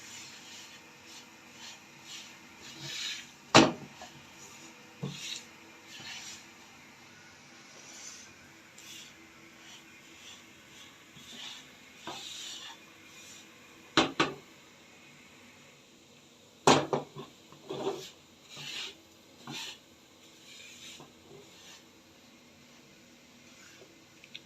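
Semolina being slowly roasted and stirred in a pan over a medium flame for panjiri, soft scraping and rubbing strokes with a few sharper clinks of the spoon against the pan, close and fairly quiet.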